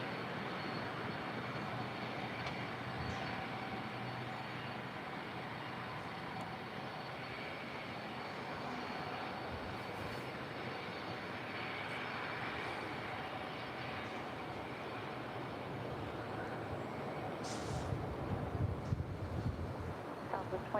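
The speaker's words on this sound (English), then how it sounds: "This is Southwest Airlines Flight 2027 coming in from San Jose, California." A Southwest Airlines Boeing 737-800, five years old, arrives at LAX with a broad, steady jet engine roar at a distance that swells toward the end, a continuous airport wash with no speech.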